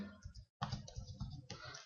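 Fingers typing a spreadsheet function directly on a computer keyboard, close and clear: a quick run of clicking keystrokes, a brief pause, then more steady key taps.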